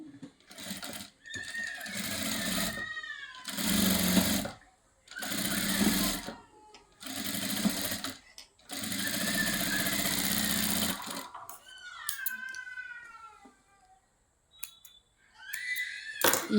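A sewing machine runs in bursts while stitching blouse fabric near hooks, a close whirring mechanical drone that stops and restarts several times with short pauses, and a voice talks briefly in the gaps.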